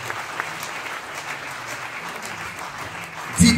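A church congregation applauds steadily, a dense even patter of many hands, moderately loud and continuous, ending with a brief louder burst.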